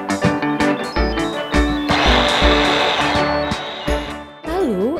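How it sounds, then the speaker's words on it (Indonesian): A kitchen blender whirs as it mixes breadfruit ice cream batter with melted ovalet, a loud grinding burst of a second or so between clatters and knocks, with a voice-like wavering tone near the end. "Lalu blender kembali sampai adonan moist atau lembut ya."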